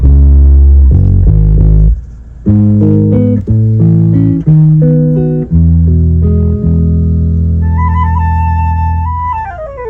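Music playing through the right speaker of a Toyota Fortuner's two-way active car audio setup, with loud bass notes and melodic synth-like tones, no talk.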